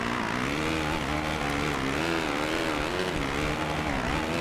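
Motocross bike engine in the MXGP 2 racing game revving hard and continuously, its pitch wavering up and down through gear changes and throttle shifts, loud and close with no pauses.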